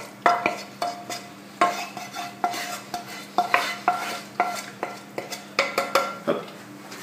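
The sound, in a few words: pouring onion tart filling into a puff pastry tart dish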